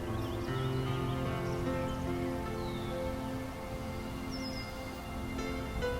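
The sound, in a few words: birds singing in nature ambience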